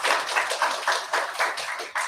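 Congregation clapping together during a Sunday church service, a short burst of rhythmic, fairly even claps repeating in steady pulses, close and moderately loud with no talking.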